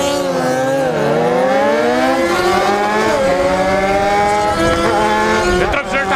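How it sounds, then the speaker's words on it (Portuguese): A Honda CB300 motorcycle engine drones loudly while riding, its pitch rising and falling through shifting revs with wind noise behind it; a rider talks over the sustained engine sound. "Essa moto tá fazendo muito barulho"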